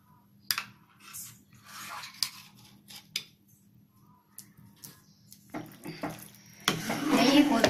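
A spoon stirs sweet sakkarai pongal with a generous dose of ghee in a pot, giving sparse, sharp scraping clicks spaced irregularly, then a denser burst of stirring near the end with a voice talking faintly.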